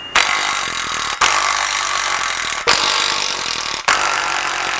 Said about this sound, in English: take a T40 and we're going to be removing the 4 bolts.